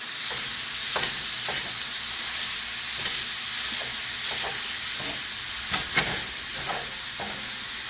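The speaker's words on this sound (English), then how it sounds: "stir now using our mix and chop because it has started cooking very nicely" Taco meat sizzles loudly and steadily in a hot pan while a mix and chop tool stirs and scrapes it, with a few sharp clacks standing out over the constant frying hiss.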